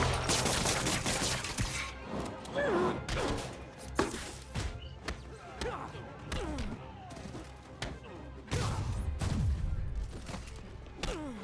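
Bursts of gunfire and heavy impacts from a Spider-Man video game fight, rapid volleys mixed with thuds and crashes, with game characters shouting over them.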